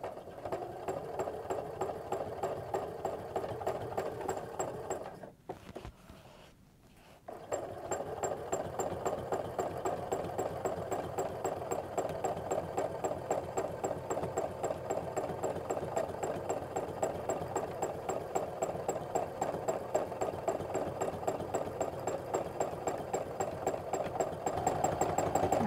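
A sewing machine does free-motion quilting on skinny borders, stitching in a steady rapid mechanical rhythm. It stops briefly for a couple of seconds, then runs on continuously at a close, moderate level.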